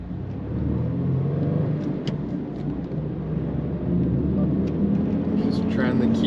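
Steady low engine drone from a Subaru WRX STI with a freshly rebuilt engine, driven gently below 4,000 rpm and out of boost, heard from inside the car as a continuous rumble.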